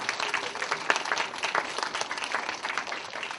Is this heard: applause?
yes